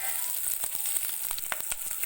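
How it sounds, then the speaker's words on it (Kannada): Onions, mustard seeds, curry leaves and garlic sizzle steadily in hot oil as a tempering is fried, a close, even crackle with light stirring clicks and no talking. "ಈರುಳ್ಳಿ ಎಲ್ಲ ಹಾಕಿ ಒಗ್ಗರಣೆ ಮಾಡ್ಕೋತಾ ಇದ್ದೀನಿ"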